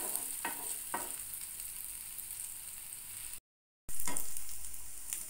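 Chana dal fritters fry in oil over a low gas flame, a soft, even sizzle with a few faint clicks, cut by a brief silent gap before the frying returns louder.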